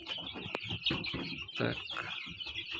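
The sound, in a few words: newly hatched chicks from an incubator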